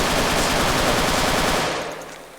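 Heavy machine gun in RMC-14 fires in one continuous, loud, rapid burst of dense automatic fire for about two seconds before the shots trail off near the end.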